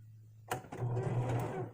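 A serger sewing machine runs in a short, quiet burst, a soft mechanical whirring buzz that starts suddenly and then stops, with a faint low hum before it begins.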